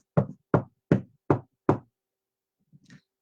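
Five firm knocks on a wooden door, evenly spaced and close, followed by a pause and a brief soft rustle at the end; no voices.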